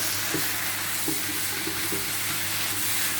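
Rice being stirred into chicken in a paella pan, a soft continuous sizzle with a few light scraping strokes, close and fairly quiet.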